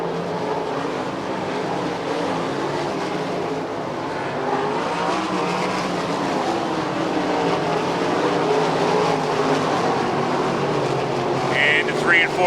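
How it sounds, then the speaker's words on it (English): Race cars roar around the dirt oval at Lernerville Speedway as the leaders near the white flag, a steady loud engine drone with rising passes, under an announcer's commentary. "Bowser chases AJ Flick down the backstretch as the leaders come to the white flag."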